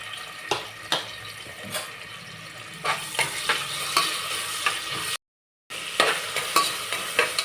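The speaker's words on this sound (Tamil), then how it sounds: "ஆயில் சூடு வந்துருச்சு ரெண்டு வெங்காயம் போட்டுக்கலாம்" Onions stirred in hot oil in a pan, with a soft steady sizzle and repeated sharp spatula clicks at close range, a brief dropout midway, and no talk.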